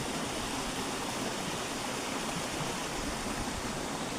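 Rainwater rushes through a flooded cauliflower field on a farm, a steady, broad, even wash of flowing water with no voices over it.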